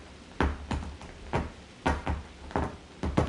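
A cat scratches at furniture in a run of sharp, rhythmic rasping strokes, about eight bursts at fairly even intervals, close and fairly loud with no talk.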